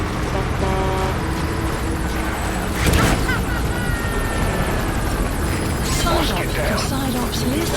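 Gunship helicopter from Metal Gear Solid V: The Phantom Pain, a steady rotor and engine drone running throughout, with a louder burst of impact near the middle and voices speaking over it.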